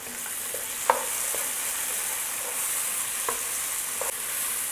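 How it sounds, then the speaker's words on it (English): Tomatoes sizzle steadily in a hot pan for a Mangalorean-style stuffed squid dish, with a constant bright frying hiss. A few soft clicks of stirring sound over it, and no one speaks. "Now I'm going to add some tomatoes."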